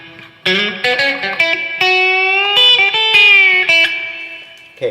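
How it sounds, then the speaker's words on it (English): Sustained notes from a Squier Telecaster electric guitar, played through a reverb pedal, bend and ring with a shimmering reverb wash, played alone and fairly loud before trailing off. "Okay, that's my reverb."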